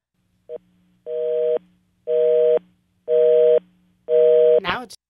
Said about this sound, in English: left us with just a busy signal